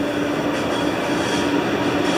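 A train rolls past close by, a dense steady roar of wheels and rails with a faint rhythmic clatter, loud and continuous with no speech.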